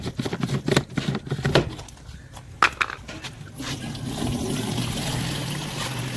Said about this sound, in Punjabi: ਇਹ ਢੱਕਣ ਖੋਲ੍ਹ, ਪਾਣੀ ਪਾ ਦੇ ਵਿੱਚ